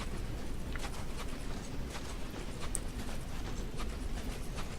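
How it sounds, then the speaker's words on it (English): Hooves of horse-like creatures in the Dark Souls 2 video game, a steady run of clopping steps at a moderate distance over a low background rumble, with no talking. "I'm getting better at fighting the weird horses"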